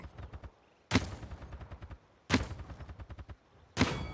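Weapon fire in the video game Paladins comes as three sharp, loud blasts spaced over a few seconds, each followed by a rapid trailing rattle of pulses that fades before the next.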